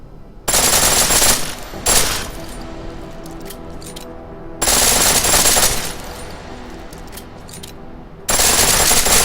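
Full-auto weapon fire in the video game Deus Ex: Mankind Divided: three loud bursts of rapid gunfire separated by quieter stretches of ringing tail and ambient sound.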